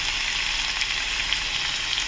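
Potatoes with chilli and tomato frying in a pan, a close, steady bright sizzle with soft crackling that continues evenly throughout with no voices.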